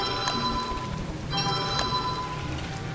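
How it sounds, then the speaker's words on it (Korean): Rain in the video game Don't Starve, triggered by croaking frogs at a pond, patters in a steady hiss with a few soft chime-like tones ringing over it, fairly quiet and even. "개구리들이 우니까 갑자기 비가 오네요"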